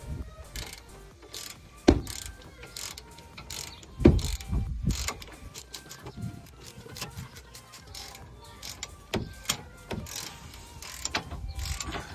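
A ratchet tightens a brake caliper bolt on a 2014 GMC Acadia, its pawl clicking in close, repeated bursts with brief pauses between strokes.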